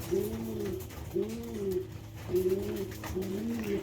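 Pigeon cooing in repeated low, throaty phrases, about four coos with short pauses between them, close and fairly soft.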